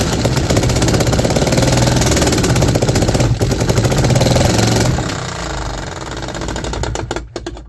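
A 3D printed engine runs with a loud, rapid mechanical clatter and knocking, then slows and falters after about five seconds with sputtering irregular beats as it fails.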